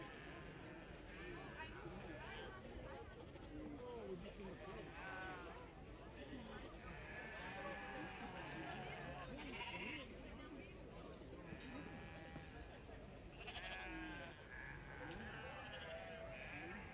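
Dutch Spotted sheep bleat repeatedly at the Royal Highland Show, several wavering calls scattered over a steady background of crowd chatter and people talking nearby.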